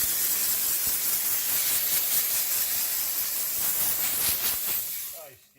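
A Vapor Rino 200 PSI commercial steam cleaner hisses loudly and continuously as it steams a carpet during pet-stain cleaning, with brief spurts in the spray, then cuts off near the end.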